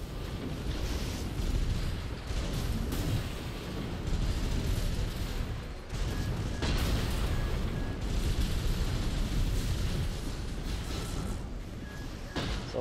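Napalm explosions in the mech combat game Armored Core 6 roar as a dense, continuous rumbling blaze with deep booming bursts and crackle, loud and sustained throughout.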